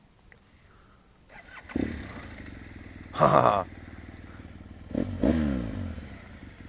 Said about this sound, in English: Hear the sound of the Zakrapovich. That's a nice sound.